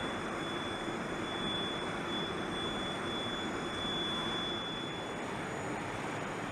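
Airbus Beluga XL cargo aircraft, a steady broadband engine roar with constant loudness throughout and no voices.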